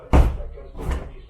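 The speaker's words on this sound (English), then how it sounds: "the door was installed, but there's a bit problem here because it catches on the lock" A newly installed door in a bungalow under construction in the Philippines catches on its lock, giving a loud wooden thud followed a moment later by a softer second knock.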